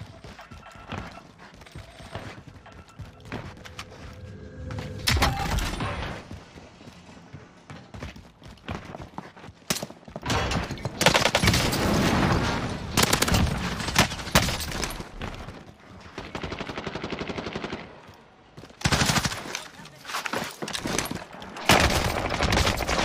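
Hip-fired automatic gunfire in a Warzone match on Rebirth Island comes in loud, rapid bursts, broken by short pauses and distant shots. It keeps going through the whole stretch.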